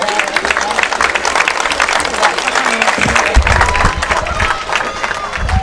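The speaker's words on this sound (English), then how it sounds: "another round of applause for all of our seniors and their parents" A high school football crowd at halftime gives loud, sustained applause and cheering for seniors, parents and band members, filling the stands steadily throughout.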